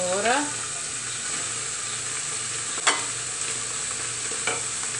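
Carrot stirred and frying in a pressure cooker, with a constant hiss of sizzling oil, a brief voice at the start and a few sharp scrapes and knocks of the spoon.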